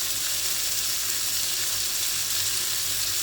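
Hilsa fish frying in a pan over a slow flame, giving a steady, close hiss and sizzle of hot oil that runs unbroken throughout with no speech.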